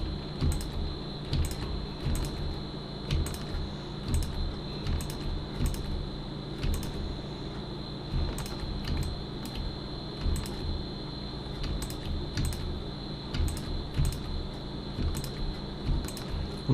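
Steady computer keyboard typing with frequent crisp key clicks at close range, a continuous low hum beneath it, and no talking, heard while working in Blender on a retro computer model.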